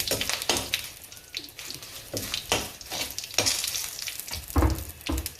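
Asafoetida sizzles as it hits hot oil in a pan for rasam, a steady close frying hiss with repeated bursts of crackle and scraping stirs.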